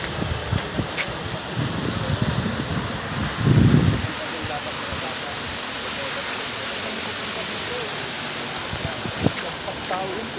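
Ragatan Falls pours with a steady broadband roar of falling water, continuous and fairly close, with a few brief rustles and bumps and some talk over it.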